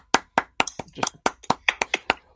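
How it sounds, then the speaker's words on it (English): About ten light, unhurried claps from one or two pairs of hands, each crisp and separate in a quiet podcast studio, like a polite golf clap with no voices. "You're golf clapping the guy."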